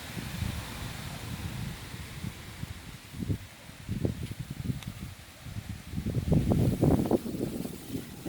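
Strong wind gusts roar and buffet through a garden, rising and falling in waves with rustling leaves, growing loudest toward the end; no talking.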